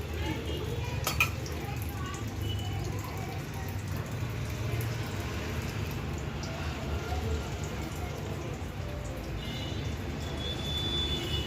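Masale bhat of rice with val beans being stirred in a pot after hot water is poured in, giving a faint, steady scraping and sloshing that runs continuously throughout.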